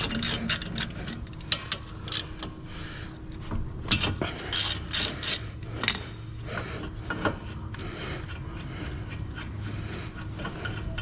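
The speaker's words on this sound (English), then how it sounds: "Okay, so I'm gonna remove the caliper bolts." A ratchet working the brake caliper bolts on a 2006–2008 Toyota RAV4 front brake job, with bursts of quick metallic clicking, clanks of tools and parts, and pauses between, close up with a faint background hum.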